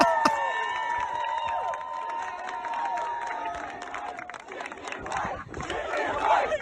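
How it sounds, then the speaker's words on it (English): A sports crowd goes wild, cheering and chanting loudly in unison, with sustained roaring voices and shouts filling the space. "the crowd just going nuts and chanting like Chicken Man's wife"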